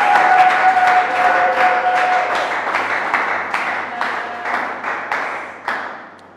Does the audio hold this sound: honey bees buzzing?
no